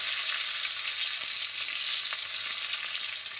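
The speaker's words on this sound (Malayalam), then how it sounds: "ഇനി നമ്മൾ വെളുത്തുള്ളിയാണ് ഇട്ട് കൊടുക്കുന്നത്" Garlic sizzles hard in hot oil for a pickle, a dense, steady frying hiss close up with faint clicks of stirring and no voices.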